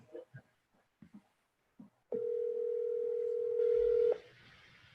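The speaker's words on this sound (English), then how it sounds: "Amy, we'll use the phone." A telephone dial tone on a call-in phone line hums as a steady sustained tone for about two seconds after a few short clicks and noises, fairly loud and alone.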